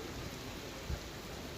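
Heavy monsoon rain pours in Puri, Odisha, as a steady, dense hiss of downpour with no pauses, fairly soft and continuous throughout.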